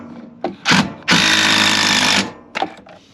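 Power drill driving screws into a board inside a Roadtrek 190 camper van: two short whirring bursts, then a longer loud run of about a second, ending with a final quick burst, all close by.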